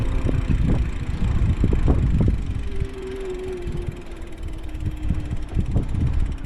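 Gusty wind buffets the microphone in loud, rumbling bursts during an electric bike ride, easing briefly midway before picking up again, with a faint tonal hum underneath.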